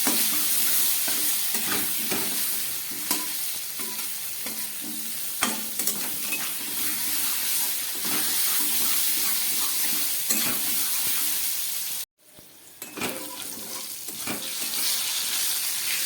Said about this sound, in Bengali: নুন হলুদ দিয়ে মাছ আলু পটলটাকে খুব ভালোভাবে আমি ভেজে দেবো